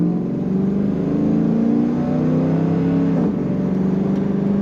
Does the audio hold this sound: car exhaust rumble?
yes